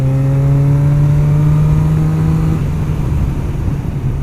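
A motorcycle engine holds a steady, loud, close mid-pitched drone that then softens and blurs into road and wind noise.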